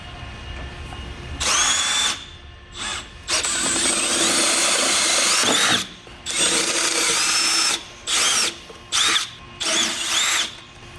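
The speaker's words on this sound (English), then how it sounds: "using a 3/16 drill bit, we're going to drill out the 4 black head rivets" Several bursts of a power drill with a 3/16 bit whining at high speed while drilling out rivets, starting and stopping in short runs with brief pauses between, close and loud.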